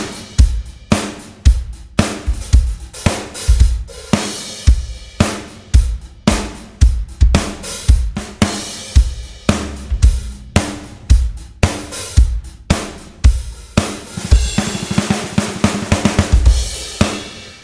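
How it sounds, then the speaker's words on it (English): A Gretsch bell brass snare drum, tuned high, struck repeatedly in a steady groove, bright cracking hits with ringing overtones, loud and close, with busier rolls toward the end. "Then there's the Gretsch bell brass"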